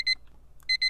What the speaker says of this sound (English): This alarm has been running for like 10 minutes.